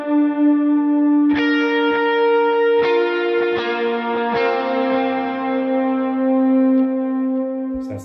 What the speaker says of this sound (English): I'm gonna turn on the dotted eighth delay and the bigger reverb